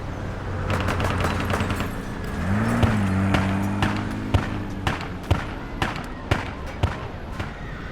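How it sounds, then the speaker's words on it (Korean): Sharp video game gunshots crack over a low hum, first a rapid burst, then single loud shots spaced about half a second apart toward the end. "커다란 총소리가 울려 퍼졌습니다"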